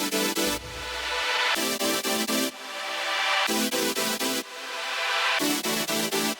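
Layered future bass saw synth chords made in Serum, bright buzzing stabs in fast choppy rhythmic bursts alternating with rising airy noise swells, loud and alone with no voices.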